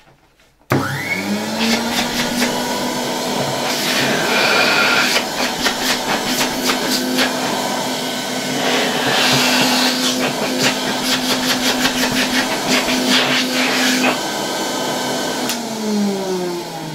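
A 1960 Alfa II vacuum cleaner switches on and runs steadily with a loud, constant motor whine and hum, then winds down at the end.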